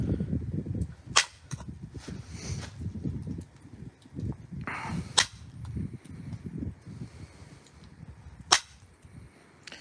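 Flint knapping on a large boulder of Normanskill chert: several sharp, isolated stone-on-stone cracks at irregular intervals, fairly close, over low rumbling handling noise and background rustle.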